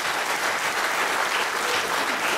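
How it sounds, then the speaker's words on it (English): An audience at a hospital radio awards ceremony in a hotel claps steadily, a dense, even roar of applause that holds at the same level without a break. "Round of applause for them."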